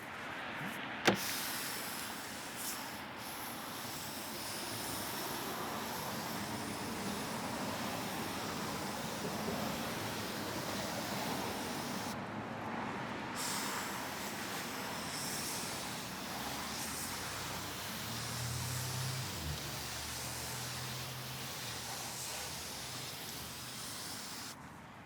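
Continuous hiss of a water hose spraying to rinse road salt and grit off a car's side, steady and moderately loud for the whole stretch with a sharp knock near the start.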